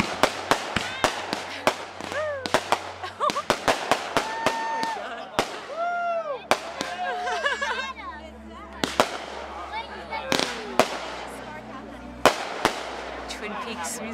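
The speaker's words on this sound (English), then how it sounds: "fireworks at Aaron's wedding." Fireworks going off at a wedding in Vermont: a rapid string of sharp cracks and bangs, whistling rising shells and crackling bursts, with loud reports scattered irregularly and people's voices heard among the explosions.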